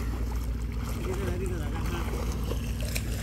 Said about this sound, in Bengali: আইতাছে লঞ্চ